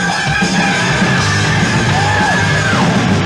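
A man lets out a loud, sustained metal-style vocal scream with a wavering high pitch, steady and continuous throughout, as part of a vocal power singing lesson.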